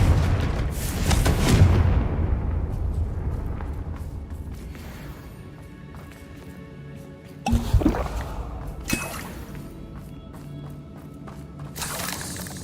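Confringo fire spells go off in Hogwarts Legacy, a heavy booming blast with a long rumbling tail, then sharper cracking impacts and a shattering hit later on, loud and close.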